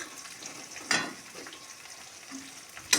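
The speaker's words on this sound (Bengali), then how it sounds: "আদাটা একটু ভাজা ভাজা করে নেব।" Ginger frying in oil in a pan for a fish curry, a soft continuous sizzle broken by a few sharp stirring clanks near the start and end, close and unaccompanied by talk.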